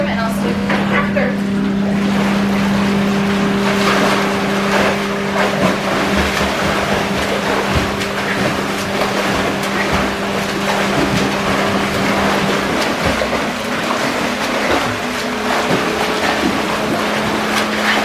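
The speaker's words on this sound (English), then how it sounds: "the engine's on like pretty high right now" An endless pool's current engine running on high, a loud steady motor drone with a strong constant hum, churning water beneath it and a pitch shift late on.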